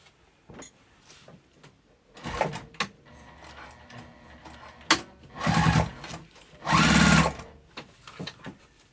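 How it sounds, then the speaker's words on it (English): A sewing machine top stitches a fabric zipper pouch through the lining and outer layer, running in several short close bursts of a few seconds each with quiet pauses between. "I'm just going to top stitch through the lining, or through the outside"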